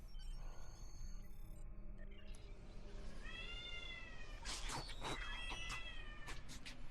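A domestic cat meows several times, the calls rising and wavering midway through, heard fairly close over low background noise from a game playing indoors.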